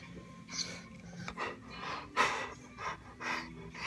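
A Great Dane puppy breathes heavily up close, with rhythmic huffs and pants repeating every half second or so, fairly quiet and without talk.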